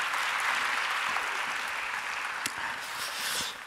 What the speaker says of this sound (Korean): 우리 박수로 하나님께 영광 돌립니다.